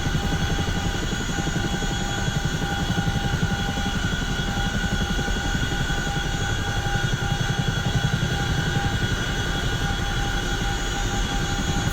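A CH-47F Chinook helicopter in the DCS flight simulator, heard from the cockpit as a steady, dense engine and rotor drone with constant whining tones, loud and unbroken throughout.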